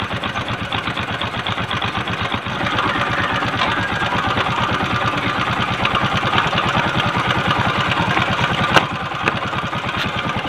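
A seven-year-old Kawasaki LS 135 four-stroke motorcycle engine idles after an oil change, a steady, close, loud rapid putter with even firing pulses, brief ticks near the end and no voices.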